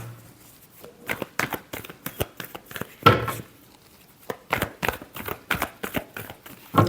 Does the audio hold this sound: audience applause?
no